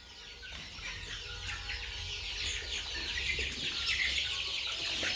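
Chickens cluck and chirp steadily in a farm shed holding a larger batch of birds, a dense, continuous flock chatter with no talk over it.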